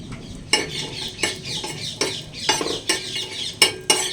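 Cashews and almonds, broken into two pieces, fry lightly in ghee with a soft, constant crackle, while a utensil stirs and scrapes the pan in close, rhythmic taps about every half second.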